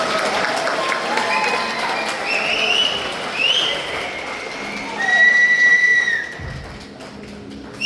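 A large outdoor crowd at a concert in Jaffna greets a famous South Indian singer with loud applause and several shrill rising whistles, a voice speaking over the noise as the clapping swells and then fades.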